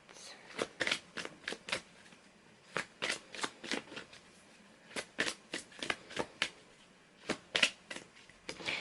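Tarot cards being shuffled by hand, a run of crisp riffling bursts in short uneven bursts, close and fairly quiet, with no voices.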